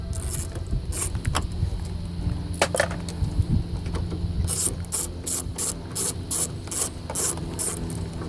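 Ratchet clicking in repeated bursts as bolts are loosened to take off the side mirror of a GMC Sierra pickup, close and fairly loud over a low steady hum, with no talking.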